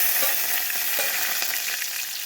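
Onions, mustard seeds, cumin and curry leaves frying in hot oil for a tempering, giving a steady, dense sizzle with a few faint crackles, close and fairly loud throughout, with no talking.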